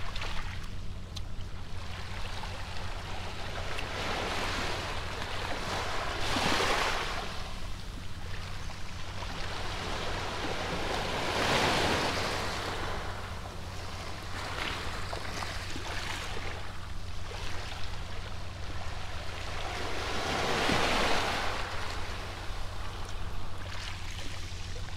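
Sea waves at a beach wash in and out as a continuous broad roar, swelling into louder surges about every five to ten seconds, with no voices.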